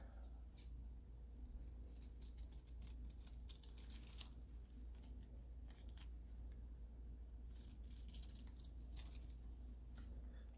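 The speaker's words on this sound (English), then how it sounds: "grab some scissors" Quiet, close scissor snips cutting paper, a series of short crisp clicks in irregular bursts over a low hum, no talking.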